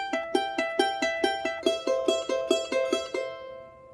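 A charango plucks its first and fourth strings open in a quick, even run of about fourteen bright notes from Virgenes del Sol, each attack ringing briefly before the last fades into silence, heard alone and fairly quiet.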